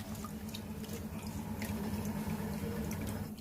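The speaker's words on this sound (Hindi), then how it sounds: "अब ये जो हमारा आइस वाला वाटर था हम इसको एक बार फिर से ड्रेन आउट कर लेंगे" Ice water drains steadily from a container in a kitchen, a faint, continuous trickle and splash with occasional drips, alone without talk.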